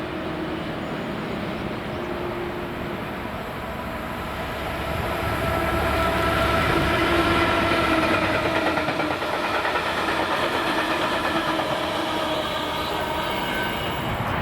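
Freight train 6M512 rumbles past near the Beath Summit loops in Scotland, a continuous mechanical roar of engine and wagons that swells slightly louder midway and keeps up its steady clatter to the end.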